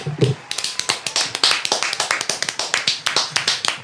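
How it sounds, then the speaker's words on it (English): Audience applause for Courtney Morgan at a small gathering, a run of close, sharp claps at a steady rhythm, a brief voice heard at the start. "Round of applause to Courtney Morgan"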